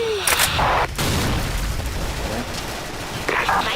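Explosions boom in a Thai online shooting game, with a few heavy blasts near the start and again near the end. Players talk over the game sounds.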